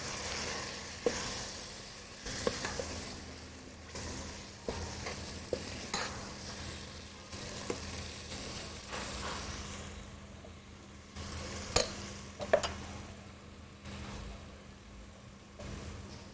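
Curry ingredients, including a chicken drumstick with garam masala still to come, are tossed and stirred around a pan, giving faint, irregular scraping and clattering bursts over a low background hum, with no voices.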